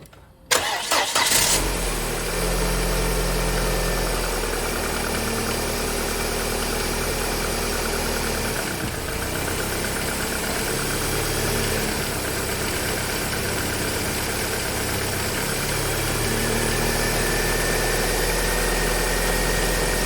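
A 1998 Volvo S40 2.0 automatic starts with a sharp crank, then idles steadily and close with a low rumbling drone and faint knocking while put in gear, the tone shifting slightly under load, with no talking.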